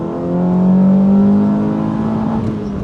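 A Honda Civic EJ2 with a D15B7 engine revs hard toward 7,000 RPM, a loud, steady, buzzing engine whine that swells and holds for about three seconds with no talking.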